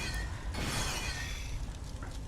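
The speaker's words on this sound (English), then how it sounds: "his helmet smashed and whatnot" A helmet smashing in God of War: Chains of Olympus, a sharp shattering crash that bursts in and sprays bright breaking debris before fading under a background game mix.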